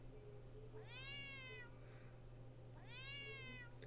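A cartoon cat in a cheap iOS mobile game gives two clear rising meows about two seconds apart over a steady low electronic hum, fairly faint, with no talk.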